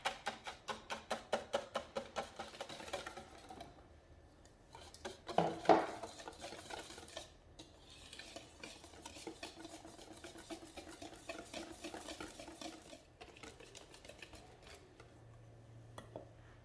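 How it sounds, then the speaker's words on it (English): Dry ingredients stirred into wet chocolate cake batter in a bowl, with a rhythmic series of soft scraping strokes at first, then quieter, irregular mixing and utensil clinks, close and faint. "Now I'm going to add the dry ingredients into the wet and combine well."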